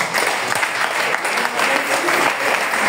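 Church congregation applauding loudly, dense steady clapping filling the whole moment with a faint crowd murmur beneath.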